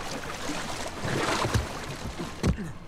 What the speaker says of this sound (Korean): 물소리 봐봐.